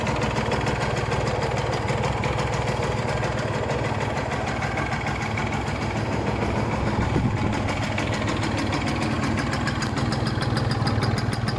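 A Yamaha TZM 150 motorcycle engine idles steadily and quietly at close range, a low continuous rumble with a fine rapid pulse running the whole time.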